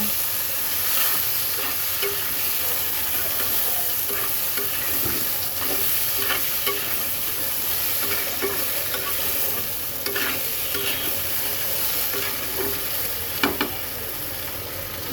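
Bottle gourd, green chilli and salt stirred in a sizzling pan for a lauki and shing fish curry: a steady frying hiss with repeated scraping stirs of a spatula, close and continuous.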